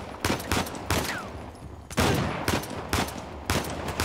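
Shotgun blasts in Uncharted: The Lost Legacy, a handful of loud, sharp booms spaced unevenly about half a second to a second apart, each trailing into a short rumbling decay during a firefight.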